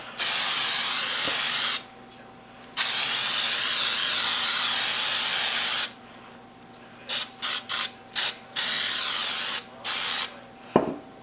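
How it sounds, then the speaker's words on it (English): Cooking spray hissing into a cake pan for a 7 Up pound cake, first in two long continuous bursts, then a run of short rapid puffs and a final long spray, loud and close. "I usually slant my pan a little bit and just spray in a circle"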